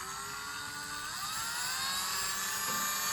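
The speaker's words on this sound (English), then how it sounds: "it's the best way to hold the rotating tool, the Dremel" A handheld Dremel rotary tool grinds ceramic in a steady, loud high-pitched whine that shifts pitch slightly as it bites, running continuously with no voices.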